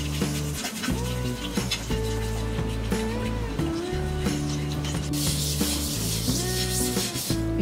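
Metal scrubber rubbing hard against a gas stove top with vinegar to lift stubborn stains, repeated close scratchy strokes in an uneven back-and-forth rhythm over a steady background hum.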